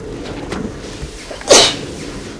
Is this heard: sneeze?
yes